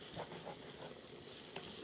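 Sausage and red pepper flakes frying in a pan, a faint continuous hissing sizzle with a few soft stirring scrapes, low in level and steady throughout.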